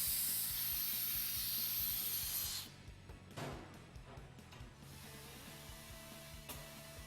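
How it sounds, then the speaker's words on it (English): A torque valve core tool clicks as a wrench ratchets tight on a TPMS tire valve, with a few faint clicks following a long hiss of air at the start. "You're going to hear this wrench ratchet"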